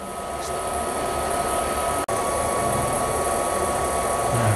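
An Epson L1800 ecosolvent printer loads before a print run, giving a steady broadband whir with a faint high tone, holding even for several seconds apart from one brief dropout midway.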